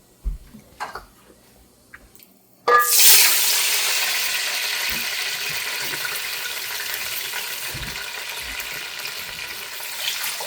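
Water hits hot oil with cinnamon, whole black peppercorns and cumin in a pot, bursting into a loud, sudden sizzle after a quiet moment, then settling into a steady hiss that carries on alone.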